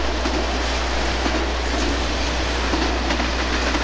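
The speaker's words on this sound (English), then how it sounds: "let you sit back and just enjoy this parade of trains" Conrail freight trains, hauled by Conrail and foreign locomotives, pass the former depot in La Porte, Indiana, as a loud, steady roar of rolling rail cars with faint wheel clatter and no voices.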